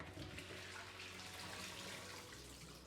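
Water drains and trickles steadily from a bowl of washed cauliflower in a kitchen, a faint continuous splashing rush heard close and alone.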